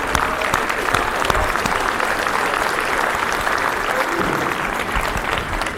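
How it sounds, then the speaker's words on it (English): Graduates at a Graceland University commencement give themselves a sustained round of applause, a dense, even wash of clapping from a large crowd that fills the whole stretch. "make some noise, give yourselves a round of applause."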